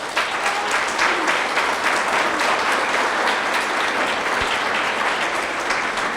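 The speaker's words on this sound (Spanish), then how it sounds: "Dale un fuerte aplauso." Church congregation applauding during a sermon, sustained dense clapping throughout, fairly loud and close, with no speech over it.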